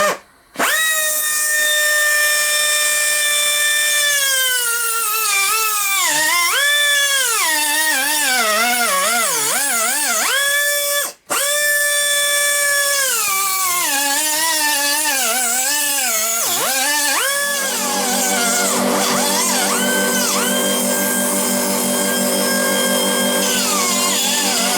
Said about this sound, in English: So we'll get the grinder so we can cut that out.